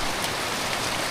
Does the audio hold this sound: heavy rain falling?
yes